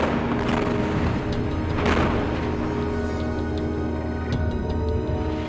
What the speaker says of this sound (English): Here we're just listening to bombs